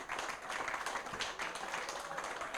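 A live audience at a horse racing preview show applauds Mattie Batchelor with a burst of steady, fairly close clapping that runs the whole stretch without speech.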